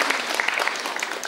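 A studio audience on the Kyrgyz TV show "Salam, Kyrgyzstan!" claps in a brief, dense burst of applause at full strength from start to finish.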